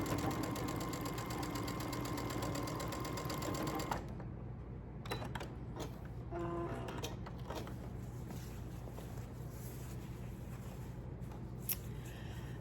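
A sewing machine stitches quilt fabric, humming steadily with a fast rhythmic needle chatter for about four seconds before stopping, followed by quieter handling noises and faint clicks nearby.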